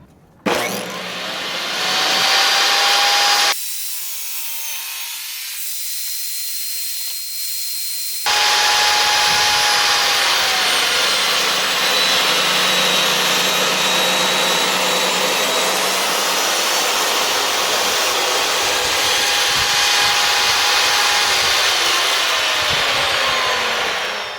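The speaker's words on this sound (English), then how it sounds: "So what I'm going to go ahead and do is cut this material to length using the sled" Table saw with a cross-cut sled cutting a walnut slab to length: a loud, steady whine of the spinning blade, briefly dropping away, then a long sustained cut running alone to the end.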